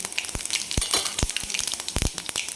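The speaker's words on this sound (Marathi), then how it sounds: "याच्यामध्ये पाव चमचा मोहरी टाकायची छान एकदम तडकू द्यायची" Mustard seeds and cumin crackling in hot oil in a pan, sharp irregular pops and snaps over a soft sizzle, close and fairly clear with no talking.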